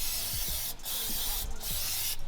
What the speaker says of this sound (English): Then you use some brake cleaner.